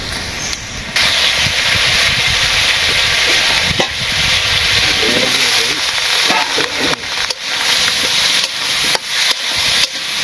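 Okra with spices fries in a pan with a loud, continuous broadband sizzle and hiss, broken by occasional clinks and stirring knocks.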